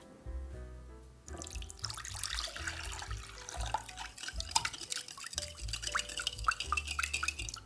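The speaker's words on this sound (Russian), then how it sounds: "Добавляем сюда 300 мл теплой воды" Warm water, 300 ml, pours into a container of dissolved yeast with splashing and trickling, accompanied by faint clinks; fairly quiet and close.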